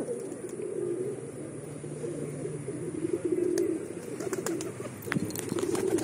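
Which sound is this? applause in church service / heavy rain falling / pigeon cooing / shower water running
pigeon cooing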